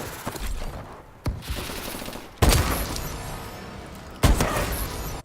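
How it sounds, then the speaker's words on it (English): Bursts of rapid gunfire from a player shooting while airborne in the Call of Duty: Advanced Warfare video game, several loud volleys with abrupt onsets over a steady game backdrop, no talking. "I'll show you a clip here of me shooting from the air"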